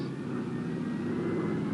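Steady, droning roar of massed military transport planes flying in formation in three columns over a wartime drop zone, a continuous low engine hum with no breaks.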